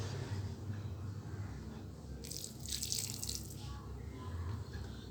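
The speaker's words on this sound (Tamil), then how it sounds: "இந்த மாதிரி தண்ணி கொஞ்சம் கொஞ்சமாக சேர்த்தி நம்ம பிசைஞ்சு எடுத்துக்குவோம்" Water trickles briefly from a vessel onto poori flour dough as it is added a little at a time. The short, close pour is heard over quiet room background.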